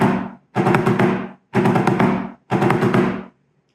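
Fast five-stroke rolls on a drum, four dense bursts in an even rhythm with brief gaps between them, close and crisp, with no voices.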